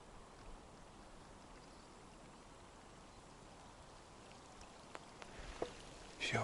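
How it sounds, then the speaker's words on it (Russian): Spring rain falls steadily at night around a hunting blind by the water, a soft, even hiss with a few louder patters and knocks near the end. "Ну все, начался дождь."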